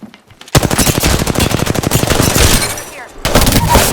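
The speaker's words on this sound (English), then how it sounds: "Listen up, I'm getting shot at." Rapid automatic gunfire in the video game Apex Legends rattles off in a loud, fast, even burst lasting over two seconds, pauses briefly, then resumes.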